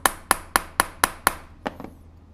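A hammer strikes a leather-craft punch six times in a steady, evenly spaced rhythm with sharp, close, loud knocks, followed by a few softer, trailing taps.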